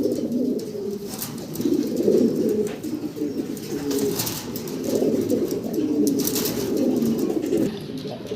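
Pigeons, including Black Shiraji pigeons at a pigeon farm, coo steadily in soft, overlapping low murmurs, with several birds close by and no talking.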